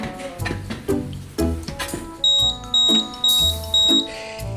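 A smoke detector being tested with its test button gives a run of loud, shrill, evenly spaced beeps, with beeping and electronic tones in the background before they start.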